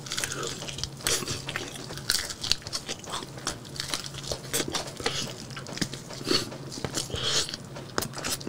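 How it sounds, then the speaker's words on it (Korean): Crunchy bites and chewing of Pelicana Dandan fried chicken, with repeated crisp crackles and soft mouth sounds, close up and without talking, over faint clinks of dishes. "자 이번엔 단단치킨 먹어볼게요"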